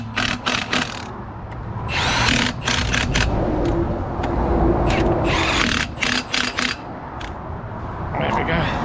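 Bolts being fitted into the cover of a 44-tonne lorry with tools, producing loud repeated bursts of rattling, ratcheting mechanical noise, close up and mixed with voices.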